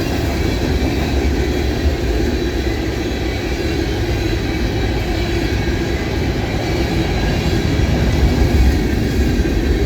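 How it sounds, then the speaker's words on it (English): A freight train rolls past on a railroad line during a railfanning outing in Ohio, a loud, steady wall of rumbling wheels and rail noise that holds up close for the whole stretch, with no voices. "I'm sure this train will have a DPU."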